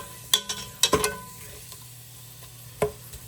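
Thinly sliced red and yellow peppers in a pan give a low, steady sizzle broken by a few sharp clinks of a utensil stirring against the metal.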